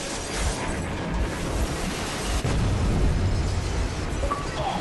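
An explosion goes off in Metro Exodus, a rumbling blast with crackling debris and a second surge of booming noise midway, loud and dense throughout.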